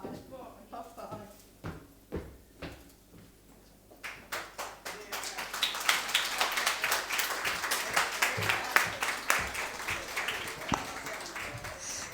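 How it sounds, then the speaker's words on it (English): A live audience claps for performers, starting with a few scattered, quiet claps and talk, then swelling into steady, fuller applause. "Give them another round of applause, please."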